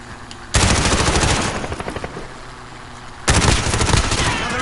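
Loud, rapid automatic gunfire in a video game, two sustained bursts of dense rattling shots separated by a short lull, close and dominating everything else.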